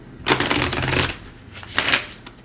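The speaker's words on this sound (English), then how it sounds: "I'm gonna shuffle this one more time" A deck of tarot cards is riffle-shuffled twice, two quick papery bursts, the first longer, recorded close with no talking.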